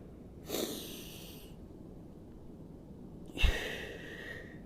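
Two slow, deliberate breaths during an arm workout exercise, each a breathy, nasal rush of air a few seconds apart, close and clear against a quiet background.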